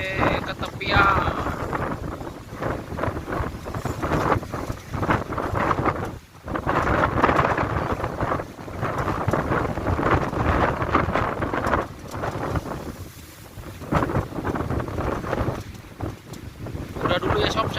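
Strong wind buffets the microphone on a ship at sea off Taiwan, with heavy waves surging and seawater washing up onto the deck, a loud continuous roar with gusting swells throughout.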